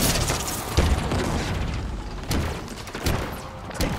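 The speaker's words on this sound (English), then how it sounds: "Gosh, I love homing missiles." In Halo Infinite multiplayer, homing missiles detonate in a string of close, heavy booms and pops, several punchy impacts spaced over a few seconds against dense battle noise.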